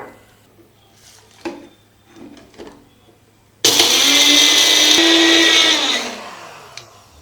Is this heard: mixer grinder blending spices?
yes